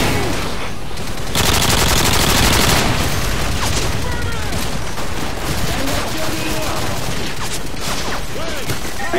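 Dense, sustained automatic gunfire rounds in a Call of Duty Modern Warfare 2 urban firefight, loud and continuous with overlapping bursts and booms, voices talking beneath the shooting.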